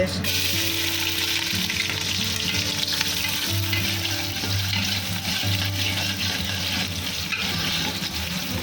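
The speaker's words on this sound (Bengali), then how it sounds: "তেলটা গরম হয়ে গেছে মুড়িয়ে দিচ্ছি এলাচি দিলাম তেলে এবার" Cardamom pods frying in hot oil at the start of a biryani, a dense, steady crackling sizzle heard close and loud with stirring throughout.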